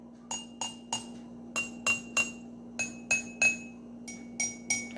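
A small glass holding liquid is tapped in quick groups of three, each clear ringing clink decaying quickly. The pitch shifts slightly between groups, heard up close over a low steady hum.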